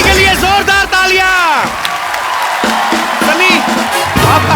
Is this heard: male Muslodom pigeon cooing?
no